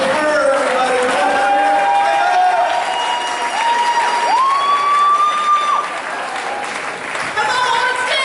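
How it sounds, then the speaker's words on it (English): Audience applauding a stand-up comedian at an Artscape show, steady loud clapping throughout with some cheering and someone speaking over it. "Start clapping right now"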